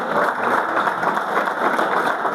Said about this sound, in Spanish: ¿Cuánto le da un aplauso?